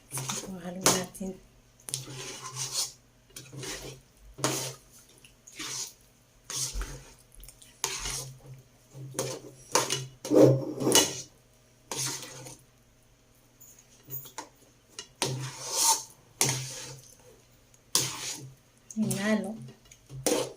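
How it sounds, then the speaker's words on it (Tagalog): A metal spatula scrapes and stirs a thick kalamay (hinalo) mixture with peanuts in a pan, in repeated short bursts of clinking and scraping, close by, while someone talks between strokes. "Hinalo ang gamit ay siyansi lang po"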